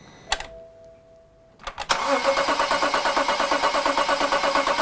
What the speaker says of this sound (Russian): Обратите внимание, как она крутит, как она заводится